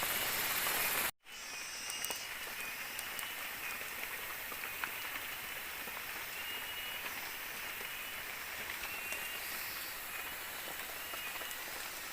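Heavy rain pours steadily on foliage and surfaces around a riverside tree house in misty forest, a dense continuous hiss that stays loud and unbroken after a brief dropout near the start.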